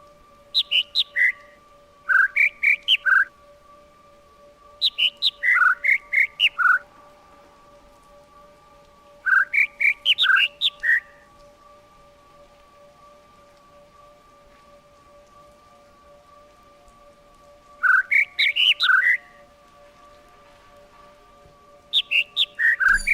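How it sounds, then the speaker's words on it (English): Bird calls from the ambient soundscape of the video game The Witness: short bright chirping bursts that recur every few seconds over a steady faint electronic hum, with no talking. "there's two different bird sounds."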